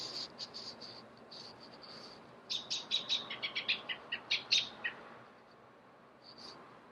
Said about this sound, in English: that bird sounded like a squirrel.